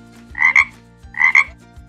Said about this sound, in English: Next, we have the frog. The frog goes,